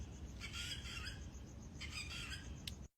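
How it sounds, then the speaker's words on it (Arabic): A small bird chirps in short, thin bursts over a dense hiss of background noise, fairly faint and close, with no talking, then cuts off abruptly. "عصفور ولا شو هذا؟"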